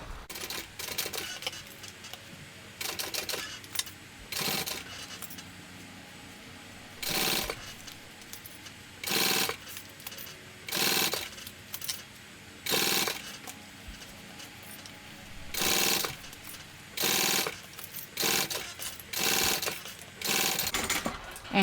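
A sewing machine stitches the lining of a small dual-compartment crossbody bag in repeated loud bursts of rapid whirring, each lasting about a second, separated by short pauses, with some quiet talk in between.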